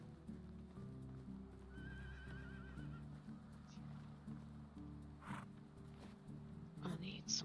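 A horse whinnies briefly in the game Medieval Dynasty amid soft game ambience and quiet hoof clopping, the neigh rising and trembling before fading; a few faint effects follow.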